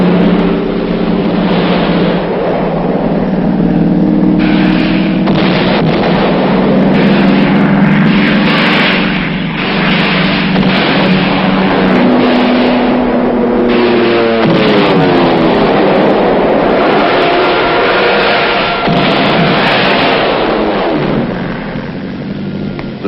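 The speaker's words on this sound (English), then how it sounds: "these planes are now ranging far and wide over North Korean territory" Navy fighter planes flying over North Korea, a loud continuous engine roar with shifting tones and a rising pitch sweep midway, steady throughout with no voices.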